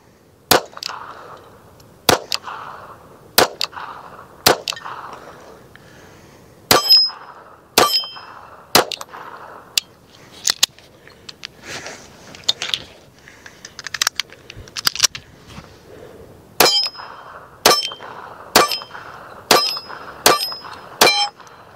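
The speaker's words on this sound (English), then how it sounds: "I'm going to take these and run some ammunition through them today" A handgun firing reloaded ammunition at 7 yards cracks out in sharp, loud single shots, spaced roughly a second apart in several strings, with quieter handling noise and shuffling between the bursts.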